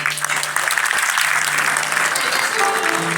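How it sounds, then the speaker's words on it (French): Steady, loud applause from the audience at the Africa Web Festival 2017 launch ceremony, continuous hand clapping from a large crowd filling the room with little variation across the whole stretch. "On applaudit s'il vous plaît."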